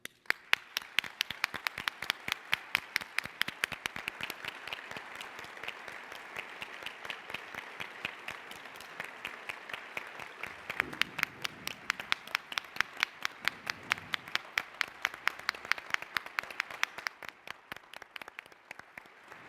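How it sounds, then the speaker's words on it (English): A seated audience at an engineering deans' breakfast gives sustained applause, crisp individual claps standing out in a steady rhythm over a softer wash of clapping that continues for nearly twenty seconds before thinning near the end. "I ask you to join me in that applause."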